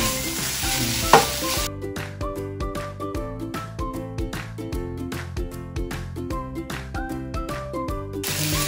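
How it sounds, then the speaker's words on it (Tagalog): Shrimp frying in a pan for pad thai hiss continuously while a spatula stirs them in a fairly regular rhythm of scraping, clattering strokes, close and clear. "pag nagkulay orange na ang ating shrimp, ay pwede na natin siya ulit haluin"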